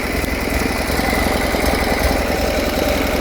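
A Buell S1 Lightning motorcycle engine idling, a close, even, low thrumming rumble with a steady pulsing beat and no voices.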